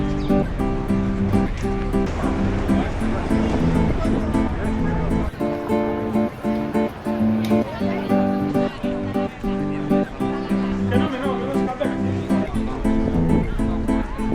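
Sea waves wash along the shore in Spain, a steady surf wash under continuous music playing throughout, moderately loud and close.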